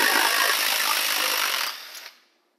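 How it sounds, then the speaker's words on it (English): Screws come out of the intake manifold of an Echo SRM 2620 string trimmer with a close, harsh buzzing whir that runs for about two seconds before cutting off and fading. "let's go ahead on and remove the intake manifold. Just three screws."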